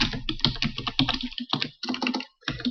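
Fast, close clattering of keys on a computer keyboard as words are typed into a Word document, a dense run of clicks with a couple of brief pauses.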